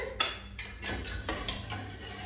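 A spoon stirs moth dal with salt and turmeric in a pressure cooker, giving a few separate scraping and clinking strokes against the metal pot, close and fairly quiet.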